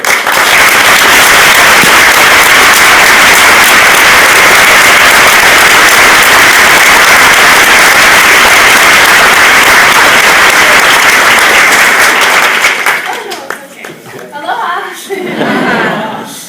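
An audience at a 2013 motivational speech event gives a speaker loud, sustained applause that fills most of the time, then fades as she begins speaking, with laughter after.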